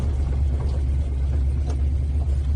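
A 1966 Ford GT40 being driven, with a steady low engine rumble and drone heard from inside the car, continuous and fairly loud with no talking.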